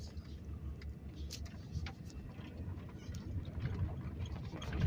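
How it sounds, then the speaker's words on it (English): A car drives down a mountain road at night, its engine and tyre rumble steady and close inside the cabin, swelling slightly toward the end, with a voice talking over it. "We're driving down the mountain."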